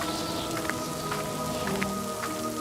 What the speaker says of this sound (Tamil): மழையும் அதிகமா வந்துட்டு இருந்தது